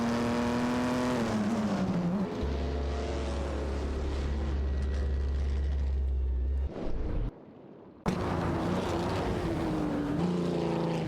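Vintage Auto Union Type D and Alfa Romeo 12EC racing cars in an AI racing game, engines droning and shifting pitch continuously, a steady loud whine with a brief drop-out before the engine note returns.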